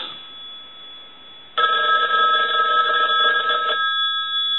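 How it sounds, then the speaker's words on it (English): An American wooden wall telephone's bell rings loud and close, starting abruptly partway through and sounding as a steady metallic trill for about two seconds before stopping, with only faint room hiss before it. "So we'll go ahead and ring the telephone."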